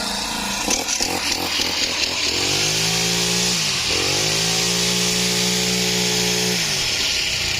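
Used Japanese Robin two-stroke brush cutter engine running close and loud, with a raspy buzzing idle that revs up, dips, and climbs again into a sustained high whine.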